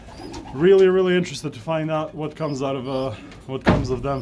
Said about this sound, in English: Excuse that noise, it's the wind slamming the door if you can hear it.